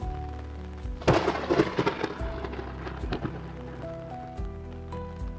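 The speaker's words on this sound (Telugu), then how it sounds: "చల్లని గాలి వీచింది. వర్షం పడింది." Rain patters over low rolling thunder, with a sharp crack near the start and gusts of wind, then calmer rain.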